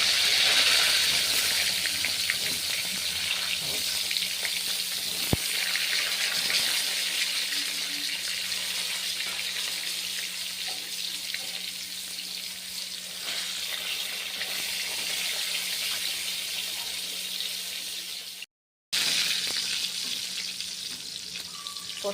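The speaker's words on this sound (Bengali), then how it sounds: "তেলটা গরম হয়ে গেছে, সব পটলগুলো দিয়ে দেবো।" Pointed gourd (potol) fries in hot white oil, giving a steady, close sizzle that runs without a break, with a brief cut near the end.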